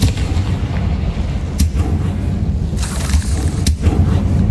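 A Confringo fire spell goes off in Hogwarts Legacy, a loud, dense rumbling blast with a couple of sharp cracks over a continuous roar, with no voices.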